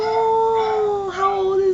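A Yorkshire terrier howls in one long, steady, tonal wail that bends in pitch toward the end, close and fairly loud, with no talking over it.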